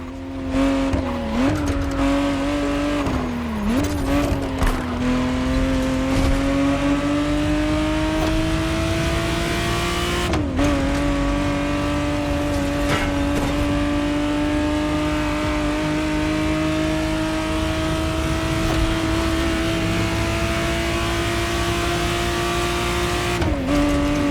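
A 1991 Ferrari Testarossa engine drones steadily while driving in the racing game The Crew Motorfest, a loud continuous tone that climbs slowly with brief dips at gear changes.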